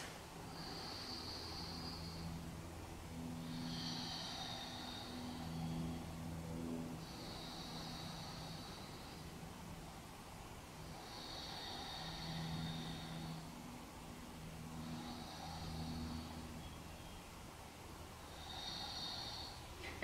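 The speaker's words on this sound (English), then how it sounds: "Go back to Ujjayi breathing." Slow Ujjayi breathing in yoga, six soft, audible ocean-like breath cycles with a hissing throat sound, each lasting a few seconds, close and quiet with no speech.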